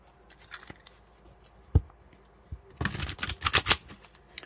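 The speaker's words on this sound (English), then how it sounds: "And then I'll go ahead and shuffle the deck for you." A Tarot des Femmes card deck is shuffled at close range, a few soft flicks and a tap first, then a dense burst of riffling cards near the end.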